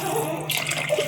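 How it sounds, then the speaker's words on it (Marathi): Hot water poured into a pot of Maharashtrian masale bhat with mint leaves, a short close splashing rush that swells in the second half over a steady low hum. "आपण पाणी टाकूया. गरम पाणी."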